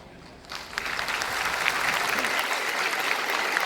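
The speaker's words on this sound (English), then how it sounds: "please stand up and clap as loud as you can." A conference room audience rises to its feet and claps loudly; dense, sustained applause swells after a brief moment and keeps going at full strength to the end.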